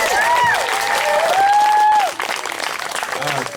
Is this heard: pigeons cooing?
no